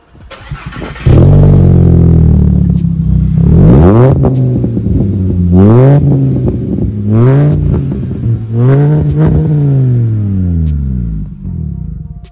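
A car engine with a throaty aftermarket sport exhaust revs repeatedly, several sharp rising and falling bursts, close and loud with no talking.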